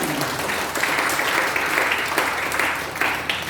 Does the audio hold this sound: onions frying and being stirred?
no